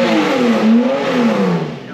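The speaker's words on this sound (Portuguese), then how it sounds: "Nossa, mas ele sobe de giro muito fácil" A Porsche engine just after a cold start revs up briefly, loud and close, its pitch climbing, dipping and climbing again before easing off.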